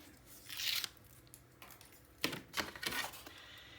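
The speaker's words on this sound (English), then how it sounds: "let's take off this tape here" Tape peeled off a mini album panel in a papercraft build, a few short, quiet tearing rips in separate bursts, close up with small handling noises between.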